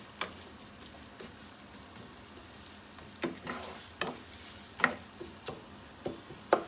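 Chopped onions fry in a pan until brown, a faint steady sizzle broken by scattered sharp clicks and scrapes from a stirring spoon, close by and with no voices.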